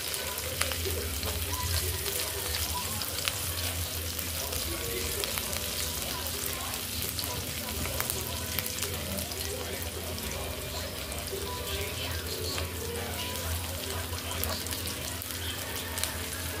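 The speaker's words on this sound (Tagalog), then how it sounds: "Igisa na natin ang talong." Eggplant sautés with onion in a hot pan, a loud, dense sizzle that holds steady throughout. Occasional clinks and stirring noises sit on top, with a muffled voice now and then in the background.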